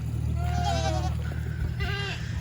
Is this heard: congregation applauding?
no